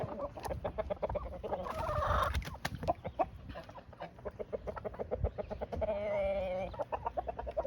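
A chicken clucks repeatedly nearby outdoors, in quick rhythmic bursts with a few louder squawks, and other fowl call faintly in the background.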